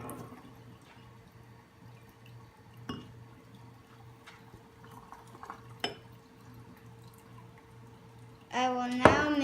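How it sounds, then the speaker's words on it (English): Green water being poured into Epsom salt for a crystal-growing experiment; a short splashing pour arrives near the end, after a long stretch of quiet room noise with a few small knocks. "I will now pour this green water in."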